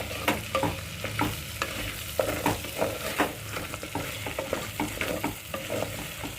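Whole cinnamon, cloves and black peppercorns are stirred and dry-roasted in a pan, with a soft crackling sizzle and repeated scraping strokes of the spoon against the metal.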